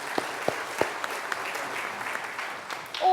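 Applause from a church congregation after the music, a crowd clapping at moderate distance with a few sharper claps standing out, steady and fairly soft for about three seconds.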